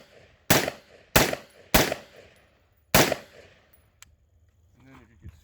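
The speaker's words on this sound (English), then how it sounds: "We'll just fire the right barrel from the right shoulder and then transition to, say, left side cover and fire the left barrel" Four sharp, loud gunshots from a Gilboa double-barrel AR-15 rifle, spaced roughly half a second to two seconds apart, each with a short decaying tail, followed by faint clicks and handling noise.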